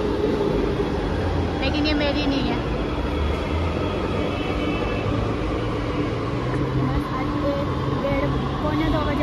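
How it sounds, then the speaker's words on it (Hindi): A metro train pulls into a station with a steady low rumble and broadband rolling noise, a brief high squeal rising over it, while someone talks over the noise. "वहाँ मेट्रो आ गई"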